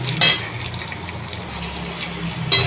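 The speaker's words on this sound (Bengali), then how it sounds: "একটু টমেটোটা ভাজা হোক।" Tomato fries in a pan, a soft steady sizzle with a couple of sharp scrapes from stirring at the start and end.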